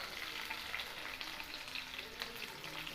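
Green chillies, ginger and garlic sizzle in hot oil while mango pickle is made, giving a steady, hissing fry with faint crackles, close by and continuous.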